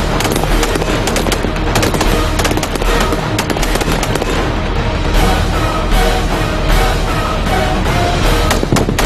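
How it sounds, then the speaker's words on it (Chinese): Rapid bursts of rifle fire at multiple targets during a team shooting competition, dense crackling shots overlapping continuously at high volume with shouting in the background. "所有队员跑至第五射击区，使用步枪射击多组隐险目标"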